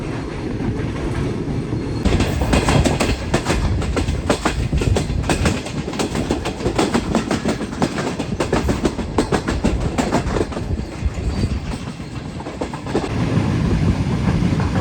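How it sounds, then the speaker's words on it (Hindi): Shah Hussain Express passenger train running at speed, a loud continuous rumble with rapid rhythmic clickety-clack of wheels over rail joints, heard from inside a carriage with no talk. "कुछ इस तरह की स्पीड में ट्रेन इस वक्त दौड़ रही है हमारी"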